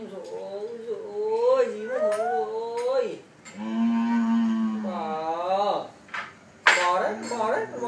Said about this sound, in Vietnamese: Bò đây này.